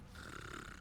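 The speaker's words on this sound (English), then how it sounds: "I hear someone snoring in game" A character snoring in the Wild West game Call of Juarez: Gunslinger, one low rattling snore drawn out briefly, quiet and without speech.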